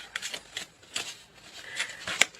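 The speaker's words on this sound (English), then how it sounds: "One more card, and then we will cut the deck." A deck of tarot cards being shuffled and cut close up, a quiet run of crisp riffling flutters and soft slaps in uneven bursts, with no voice.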